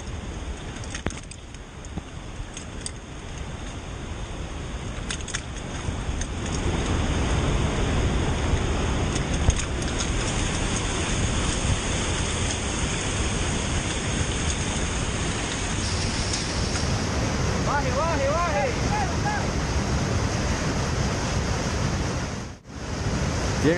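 A roaring waterfall at Catarata La Gata drones as a steady, loud broadband rush through a firefighters' rescue, with wind buffeting the body camera and a brief dip near the end.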